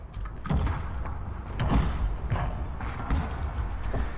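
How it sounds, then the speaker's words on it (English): Cannon fire in the Total War: Shogun 2 Fall of the Samurai campaign, heard as repeated dull thumping booms at irregular intervals over a low battlefield rumble, moderately loud and without speech. "My cannons are hammering away."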